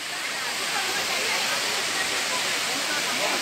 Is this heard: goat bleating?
no